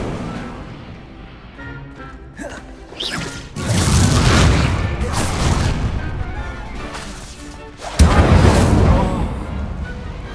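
In a Hogwarts Legacy wizard duel, an Incendio fire spell goes off as a heavy whooshing blast. Two loud bursts land several seconds apart after a quieter lead-in with a short spoken line.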